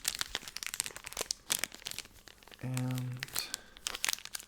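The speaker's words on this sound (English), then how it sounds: "we have a trigger that is called crinkling. I mean, the sound is called crinkling" Crinkling material handled close to the mic in an ASMR sleep clinic role play, a dense run of crisp crackles and crunches spread through the clip, with one short low steady tone near the middle.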